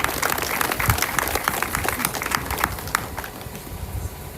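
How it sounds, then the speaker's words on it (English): A crowd at a school state send-off event applauds the cheerleaders, a steady wash of many hands clapping that slowly thins toward the end. "So let's give our cheerleaders a round of applause as well."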